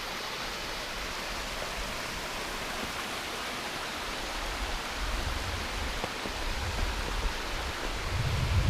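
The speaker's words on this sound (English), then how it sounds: "we have a beautiful waterfall that begins here." A small waterfall pours in snowy winter woods at Dolly Sods, a steady broadband rush of falling water, close and constant, swelling slightly toward the end.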